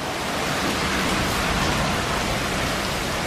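Dense, steady roar of heavy monsoon storm rain sheeting down close by in Green Valley, a constant hiss with no breaks and no voices.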